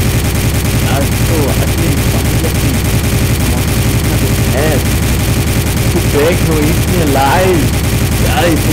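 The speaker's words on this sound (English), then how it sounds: "Let's keep shooting at him." Rapid gunfire from a Roblox video game, aimed at a giant Pikachu, crackles in a steady dense stream through the whole passage, mixed with game noise while a player talks over it.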